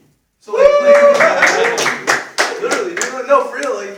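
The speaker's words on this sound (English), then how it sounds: "just another round of applause for like you guys" Audience clapping and applause from a room full of kids at a meeting, loud and close, with a cheering, talking crowd mixed in throughout.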